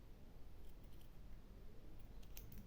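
Scissors snipping tissue paper while crafting junk journal embellishments on a boot motif, a few soft, faint crisp cuts over a steady low hiss, no voices.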